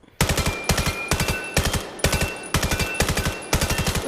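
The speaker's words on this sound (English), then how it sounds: "First, we're going to review the MK418. It is, in my opinion, the most versatile gun." Bursts of automatic fire from the MK418 rifle in the shooter game Vail, seven rapid volleys of several shots each, loud and close with brief pauses between bursts.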